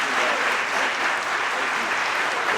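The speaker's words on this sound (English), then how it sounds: "Give them a grand round of applause" Sustained, dense applause from an award ceremony audience fills the room at steady loudness, with no voices rising above it.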